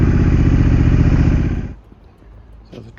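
A Triumph Scrambler 900 motorcycle engine runs loud and steady close by for about a second and a half, then cuts off, leaving a quiet background with faint clicks.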